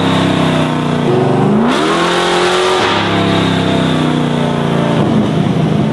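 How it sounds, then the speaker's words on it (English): A Fast & Furious Charger's engine roars loudly up close on a dyno pull, the revs sweeping up quickly, dipping, then climbing again in a sustained, harsh drone. "you'll hear the RPM just freaking rap out immediately"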